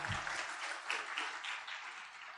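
Dense crowd applause for a host at an Indonesian Tiens business event, steady and fairly loud throughout the short burst with no talk over it.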